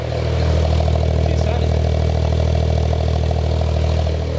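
An abandoned Smart Brabus, just started after sitting on a farm, idles with a loud, close, steady low rumble and rhythmic clatter, while a person talks over it.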